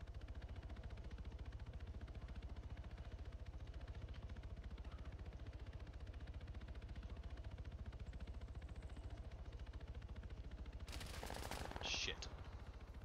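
A Black Hawk helicopter in Arma 3 throbs steadily and continuously through the whole stretch, with a burst of gunfire cracking near the end.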